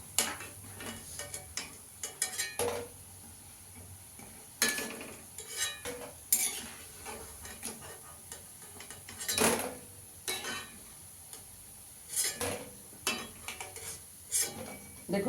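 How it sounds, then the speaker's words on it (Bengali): Puffed rice pakoras frying in a pan over a lowered gas flame, a low background sizzle broken by sharp metal clinks and scrapes of a spatula against the pan at irregular intervals. "বাকিগুলো ভেজে নেব।"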